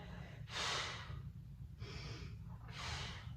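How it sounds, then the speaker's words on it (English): Three forceful breaths exhaled during a shoulder exercise, each a loud breathy whoosh lasting about half a second, close to the microphone with short pauses between them. "Always exhale on the hard part of the movement."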